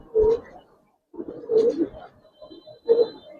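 Black-necked Giribaz pigeons, a male and female pair, coo close by in three rounded, throaty bursts separated by short pauses, clear and fairly loud with no talk.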